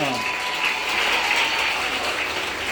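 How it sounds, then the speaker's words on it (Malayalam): Sustained audience applause at a school event inaugurating science labs in Fort Kochi, steady dense clapping filling the whole moment with no pauses. "ഒരു നല്ല കയ്യടി കൊടുത്ത്"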